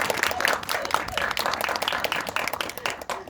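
Cinema audience at a film screening Q&A in Seoul breaks into steady applause, dense clapping close by that continues throughout and tapers slightly at the end.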